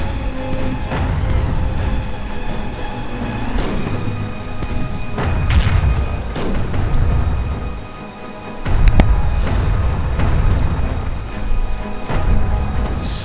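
Fort cannons firing at a pirate vessel near a Spanish fast galleon in a naval video game, deep booms and thuds rolling one after another over a dense, continuous battle soundscape.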